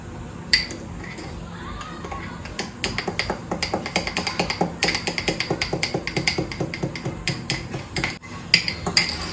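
Cold coffee is stirred in a glass, producing a run of rapid rhythmic clinking taps of a spoon against the sides, fairly close, with faint background talk.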